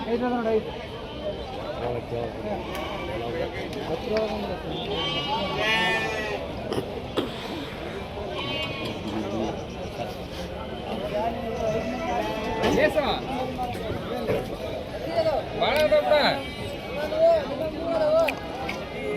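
Ram lambs bleat repeatedly at a busy rural livestock market in Koppal, their calls rising over constant talk and crowd babble from traders nearby.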